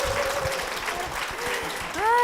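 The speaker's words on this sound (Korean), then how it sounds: "장서율 양 큰 박수로 모시겠습니다" A church congregation applauds in a dense, continuous wash of clapping, with musical tones sounding over it near the end.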